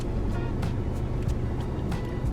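Engine and road noise rumble steadily inside a moving car over a short stretch, with faint voices mixed in.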